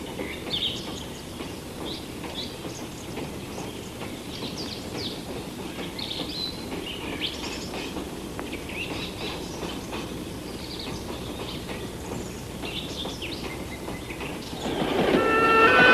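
Passenger train coaches rattle steadily along the rails during a wartime evacuation to the east, a dense continuous rumble and clatter that holds for the whole stretch and swells slightly at the end, with no voices.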